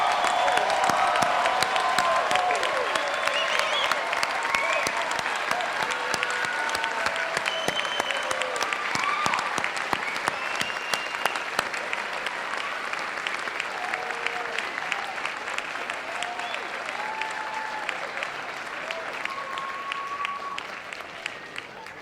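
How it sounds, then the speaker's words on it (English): Sustained applause from a large crowd at a graduate commencement ceremony, dense and even clapping that continues at a steady level with a few faint cheers and voices mixed in. "Let's all join in a round of applause to congratulate our graduates."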